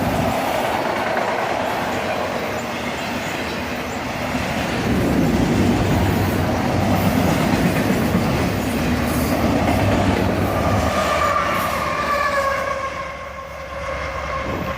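A CSX freight train rumbles past nearby with steady rolling wheel noise and clatter, an ES44AC locomotive pushing at the rear droning as it passes, no voices.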